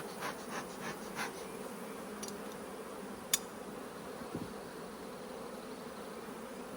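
Honey bees fill the bottom box of a hive during a hive split, a dense, steady low drone close by with a few faint clicks and taps.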